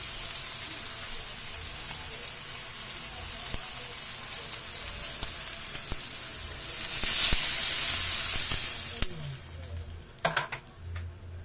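Chicken tinola broth heating in a pot comes up to a boil, giving a steady close hiss and sizzle that swells into a louder bubbling rush, then settles with a few clinks near the end.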